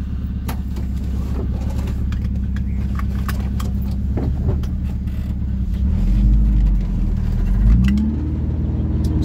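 A VW Kombi van fitted with a Subaru 2.5 engine drives along, its smooth exhaust giving a steady low rumble that swells twice near the end as the engine revs up, close and continuous with no talk.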